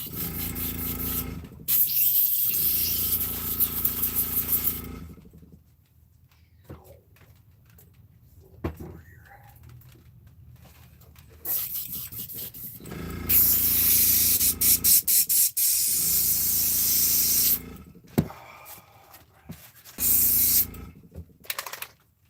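An airbrush spraying green paint lets out bursts of steady airy hiss, several separate sprays broken by quiet pauses and small handling clicks.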